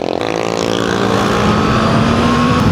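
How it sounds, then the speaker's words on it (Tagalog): A Honda CB650R motorcycle's loud exhaust roars close by, its pitch rising as it revs and accelerates. "Ang ingay ng exhaust niya."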